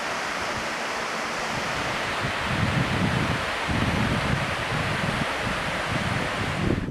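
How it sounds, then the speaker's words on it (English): A waterfall pours in a dense, continuous roar that swells slightly louder partway through, with faint wind mixed in and no one speaking. "Here's a waterfall with a confusing name."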